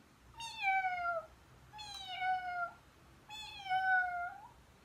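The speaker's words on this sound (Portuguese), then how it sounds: "E o gatinho começou a miar." A kitten gives three long, drawn-out, plaintive meows at an even pace, each clear and fairly close against a quiet background, with no speech.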